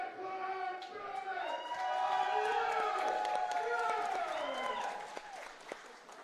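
A live crowd at a women's strongman competition claps and cheers, a swelling wash of applause with whoops and shouts that peaks midway and tapers off, while an announcer's voice runs over it.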